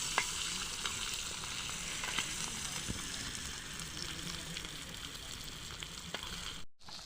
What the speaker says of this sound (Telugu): ఇక నేను ఒక్కొక్కటి కాల్చి చూపిస్తాను మీకు